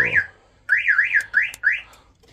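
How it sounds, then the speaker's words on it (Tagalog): A Honda Fit's aftermarket keyless-entry alarm going off, a loud electronic wailing siren in repeated rising-falling sweeps after a brief first burst, heard close with no voices. "kung buksan nila itong sasakyan ngayon, ay magkakaroon siya ng alarm, katulad nga nito"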